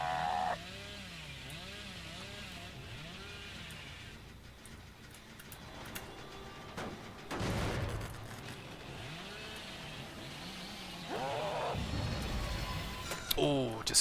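Hillbilly's chainsaw revving in the Dead by Daylight video game, bursts of buzzing roar rising and falling among in-game effects, with a commentator's voice talking throughout.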